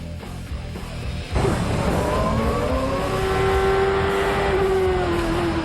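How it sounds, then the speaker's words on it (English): Champ Car race cars at speed on a road course during 2003 Grand Prix of Monterrey qualifying, a loud engine roar rising sharply as cars pass close, with a high sustained whine and shifting engine tones, no talk. "This was Paul Tracy passing under the rookie who made a slight mistake in turn 1."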